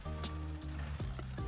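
Long-tail boat engine on a Bangkok canal, a loud, steady, noisy drone with strong low harmonics and a few brief splashy bursts over it.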